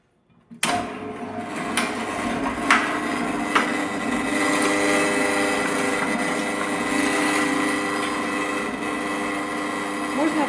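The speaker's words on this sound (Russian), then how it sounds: "Теперь мы начинаем перемалывать наше мясо." An electric meat grinder whirs continuously while mincing meat for Armenian lahmajo, a steady close motor hum starting abruptly after a brief silence, with a few knocks early on.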